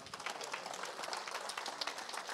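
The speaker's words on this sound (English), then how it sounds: "Let's give the Lord a hand clap." A church congregation clapping their hands together, a dense, steady patter of many hands heard from some distance, faint and continuous.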